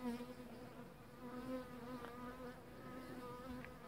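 A dense, steady buzz of many honey bees around a hive, moderately close and continuous with a low droning pitch, individual wingbeats occasionally rising above the swarm sound, with no talking.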